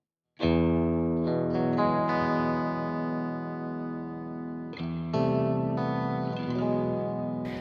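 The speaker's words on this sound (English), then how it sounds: "this is the Neunaber WET from the Element series." Electric guitar played through a Neunaber WET reverb pedal from the Element series, sustained chords ringing with a lush wash of reverb, loud and close, a brief break near five seconds before another chord blooms.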